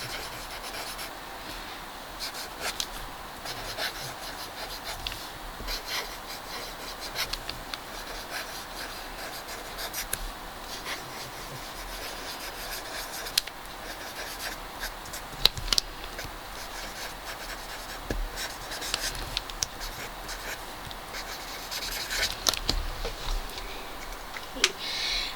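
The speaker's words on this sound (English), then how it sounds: "I always handwrite a thank you card with every order." Pen scratching steadily across a paper thank-you card, with soft, continuous rubbing and small irregular strokes, close and quiet, with no talking for nearly half a minute.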